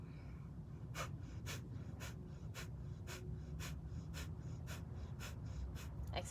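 Sharp, forceful nasal exhales from yoga kapalabhati breath work repeat in a steady rhythm, about two per second, up close over a low background hum.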